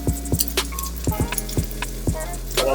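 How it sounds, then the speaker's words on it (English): Grilled pork belly frying in a cast iron pan, a steady loud sizzle with repeated clinks and scrapes of stirring, close up and with no voices. "that's frying"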